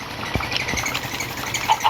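Short, light clucking from a Minecraft chicken, a few brief calls over a soft electronic background.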